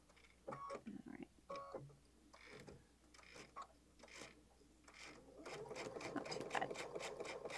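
A sewing machine stitches a messenger bag in short bursts of rapid ticking, then settles into a longer steady run; a person speaks briefly between stitches.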